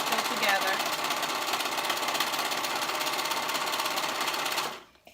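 A sewing machine stitching a fabric seam on kids' sweatpants, running in a fast, even mechanical whir at close range before stopping abruptly.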